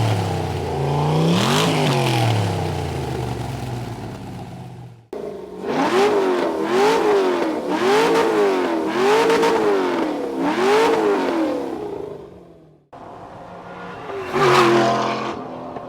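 A Porsche 996 with an LS V8 swapped in and fitted with a custom exhaust revs in repeated deep rising and falling blips, close and loud, across three separate bursts.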